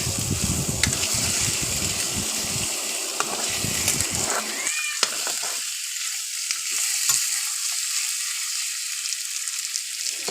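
Pork frying in a wok without oil, stirred with a utensil: a loud sizzle at first, then scraping stirring strokes over a quieter crackle, close up with no talking.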